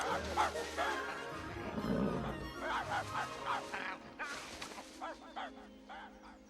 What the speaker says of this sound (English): Who's the smartest doggy in the world? Come on, smart boy.